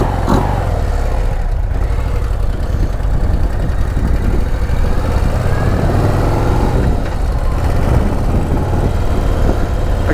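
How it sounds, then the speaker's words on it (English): A Harley-Davidson motorcycle engine runs steadily at idle, its big intake drawing air with a continuous low rumble and throaty pulsing, close and loud throughout with no talk over it. "I can hear that big old intake sucking in that air."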